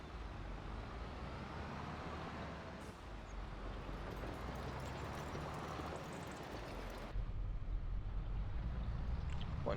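A tractor in Farming Simulator 25 runs with a steady, loud engine drone and rumble that holds throughout, its tone shifting slightly partway before returning and growing a bit louder near the end.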